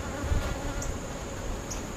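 Honeybees work a hive frame above a feeder, producing a dense, continuous close-up buzz that stays steady throughout, with a couple of brief higher whines from individual bees passing near.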